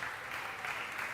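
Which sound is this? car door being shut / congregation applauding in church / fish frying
congregation applauding in church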